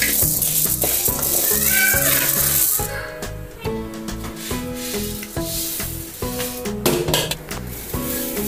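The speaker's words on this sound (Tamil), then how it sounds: "கருப்பு முழு உளுந்து நான் ஒரு 200 கிராம் எடுத்து வறுத்துக்கிறேன்." Whole black urad dal dry-roasts in a pan, a rough rattling and shuffling hiss under loud, steady background music.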